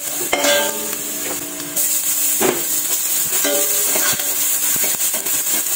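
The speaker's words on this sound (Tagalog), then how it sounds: "simulan na natin ang paggisa ng bawang at sibuyas" Garlic and onion sautéing in a pan: a steady sizzle and hiss with intermittent scraping and clinks of a utensil stirring against the pan, close and fairly loud.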